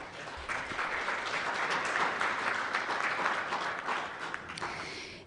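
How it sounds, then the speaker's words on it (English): A round of applause from the audience for the speakers at an asbestos awareness conference brunch, steady and fairly distant, sustained for several seconds with no talk over it. "a round of applause to all of our speakers"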